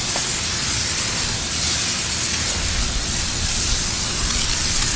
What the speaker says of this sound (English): spray it off